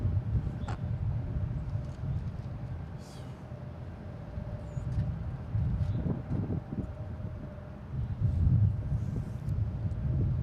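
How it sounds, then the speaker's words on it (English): Gusty wind buffets the microphone outdoors at Boston Logan International Airport, a steady low rumbling roar that swells and eases, with a faint distant hum beneath. "the wind's kicked up a little bit"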